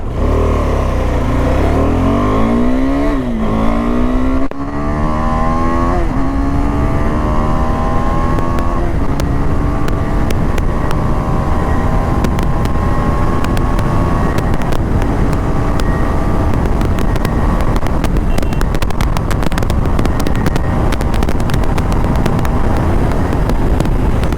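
A KTM 390 Adventure motorcycle engine revs and climbs through rising pitch as it accelerates hard on a highway, steady wind roar over everything, continuous and loud throughout.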